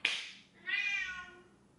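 A cat meows twice close by, a short sharp cry followed by a longer drawn-out meow, with quiet surroundings.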